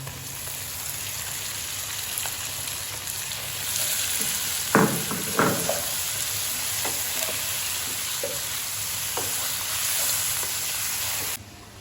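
Tomatoes hit a pan of fried spice masala for tinda gosht, setting off a steady, close sizzle with a few sharper crackles and pops scattered through it.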